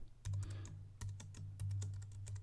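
Keys clatter on a computer keyboard as a folder name is typed, several quick bursts of crisp clicks separated by short pauses, close and fairly quiet, with no talking.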